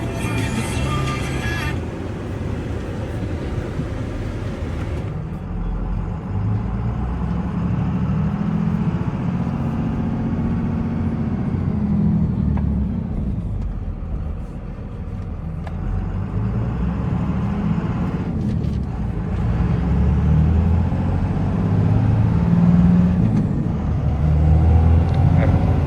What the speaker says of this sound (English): Driving this truck with my knee right now.